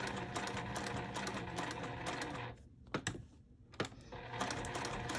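Sewing machine stitching around a quilty fabric rosette patch, a rapid steady needle chatter that stops briefly midway with a couple of clicks, then resumes at full pace.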